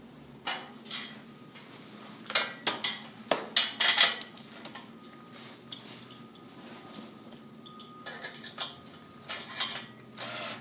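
Ratchet clicking as bolts are tightened by hand while assembling an Oz-Puller manual jack from 2013, with irregular bursts of metallic clicks and clinks spread across the stretch, fairly close and moderately loud, no talking.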